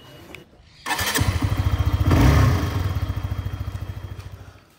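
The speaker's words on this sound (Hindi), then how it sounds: "बाइक तो मेरी वहीं पे, मैं नफीस की बाइक लेकर जाऊंगा।" A motorcycle engine starts with a thump and settles into a loud, steady, pulsing idle close by, the throbbing beat continuing to the end with no one speaking.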